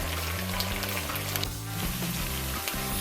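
Stewed goat meat frying in a pot for kondré: a steady, close, dense sizzle with a low rumbling hum underneath and no talking.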